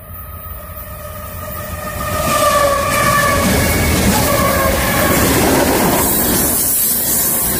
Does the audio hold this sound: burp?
no